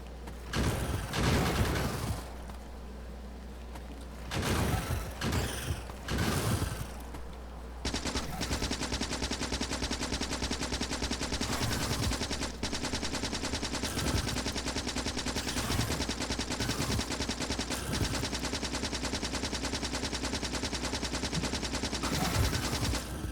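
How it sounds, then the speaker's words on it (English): Turrets and guns fire continuously in Factorio, with dense machine-gun bursts at first, then an unbroken wall of rapid shooting that runs loud and close. "have the turrets kind of keep an eye on things while we go over here and shoot"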